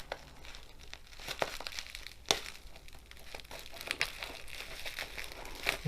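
Sharp scissors cutting through crinkly packaging around a diamond painting kit: rustling, crackling plastic with a few brief snipping clicks, close and fairly quiet, with no voice.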